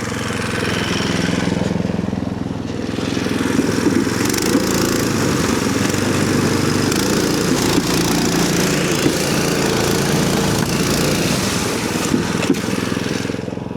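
A homemade ice-fishing track sled's small engine runs steadily with a new throttle and gear, a loud, continuous buzzing drone close by with no talk.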